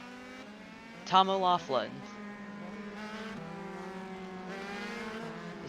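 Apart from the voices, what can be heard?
race cars on track at Lime Rock Park, racing video game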